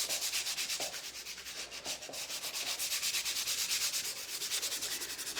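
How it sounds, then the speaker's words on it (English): A sanding pad rubbed back and forth over a surface for Christmas décor, giving a steady rhythmic rasping scrub of quick regular strokes, close and fairly quiet, with no talking. "I have a sanding pad from Surf Prep that I was using inside"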